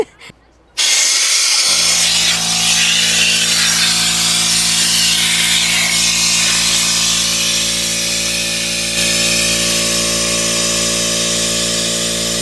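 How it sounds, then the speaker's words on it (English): A small air compressor in an RV starts up after a brief pause and runs continuously, a loud steady motor drone with a constant pitched hum as it builds pressure, close and unbroken for about ten seconds. "Let it build back up. That's not much of a compressor."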